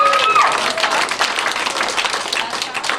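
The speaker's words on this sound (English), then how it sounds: "Who's clapping over there?" A comedy club audience clapping at a stand-up show, dense steady applause from many hands filling the room for the whole stretch, close and loud with a short voice at the start.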